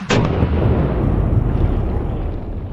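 Shotgun fired with a store-bought one-ounce rifled slug, a single loud close blast with a long rumbling tail that fades over a couple of seconds.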